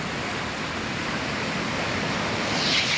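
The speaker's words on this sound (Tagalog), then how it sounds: "Ito yung dagat dito sa amin." Sea waves wash steadily onto the shore, a continuous broadband surf roar with some wind, close and fairly loud without any talk.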